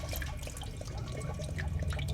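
Water drains steadily out of a flooded, low-mileage Mustang Cobra, a continuous close-up trickling and gurgling with small drips and splashes.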